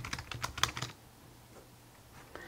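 Quick bursts of clicky keystrokes on a keyboard paired with Apple Vision Pro, close and crisp for about a second, then a near-silent pause and a single final tap.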